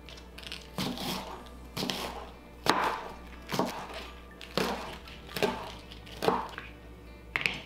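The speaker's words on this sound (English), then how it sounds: "So just chopped up a couple of carrots" A knife chops through carrots on a cutting board, about a dozen crisp, evenly spaced thuds, close up with no talking.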